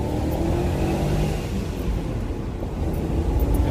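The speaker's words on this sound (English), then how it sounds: "hit the rev limiter" A BMW E39 540i engine strains at high revs near its rev limiter, a loud, sustained droning roar with a slight rise and fall under road and wind noise, with no voices.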